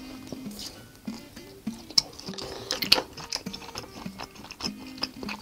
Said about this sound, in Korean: 콩가루에다가 듬뿍 찍어서 한번 먹어보겠습니다